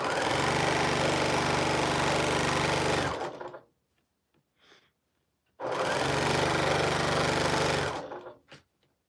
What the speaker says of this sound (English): I'm just sewing them a sample in different colorway